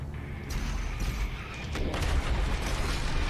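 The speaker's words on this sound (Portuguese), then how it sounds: "Um tiro de shotgun." Several heavy shotgun blasts go off in the first-person shooter Doom Eternal, each a sharp boom fading into a rumble, spaced about a second apart over a thick wash of game noise.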